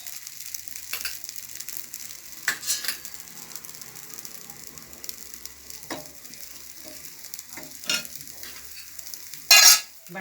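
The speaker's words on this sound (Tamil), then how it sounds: "நம்ம தோசை கரண்டி வச்சு இந்த பட்டரை நல்லா ஸ்ப்ரெட் பண்ணி விட்டுக்கோங்க" Butter sizzles on a thin minced meat dosa as a ladle spreads it across the hot griddle, a steady quiet fry broken by a few scraping strokes and one louder scrape near the end.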